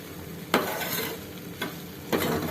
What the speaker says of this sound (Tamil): நல்லா கலரி கொடுத்துடணும்